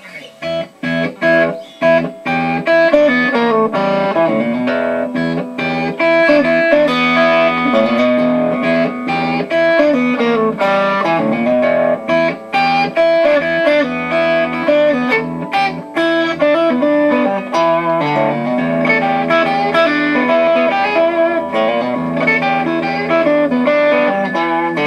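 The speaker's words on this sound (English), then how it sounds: "this is a riff you can play with some distortion" A distorted electric guitar plays a repeating E blues 1-4-5 riff, steady and loud throughout, with choppy picked notes and sustained chords.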